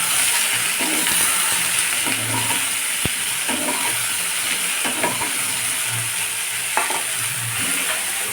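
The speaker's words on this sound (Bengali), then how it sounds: "তারপর পরে তেল দিয়ে আমি ভাজবো" Oil frying in a pan makes a steady, close sizzle that runs throughout, broken by repeated scrapes and clatters of stirring, with no voices.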